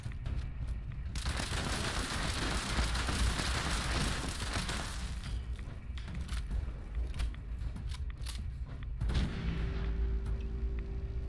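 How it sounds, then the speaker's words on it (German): An explosion in Fallout 76 erupts as a loud, noisy roaring burst that rumbles on for several seconds before fading, followed by a low droning tone. "Nee, das war schon eine Explosion."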